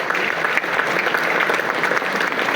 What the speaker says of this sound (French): j'aimerais qu'on applaudisse ces militaires.